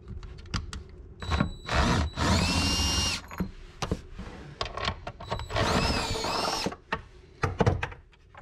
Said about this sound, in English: I prefer to use a socket on my drill with this little 90 degree deal